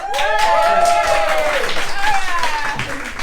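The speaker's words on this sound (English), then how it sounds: "Should we get an applause started?" An audience at a stand-up comedy show in Estonia claps steadily throughout, with whoops and cheering voices rising over the applause.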